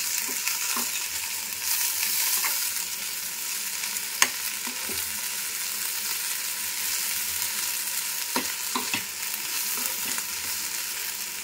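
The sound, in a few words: potatoes frying and sizzling in a wok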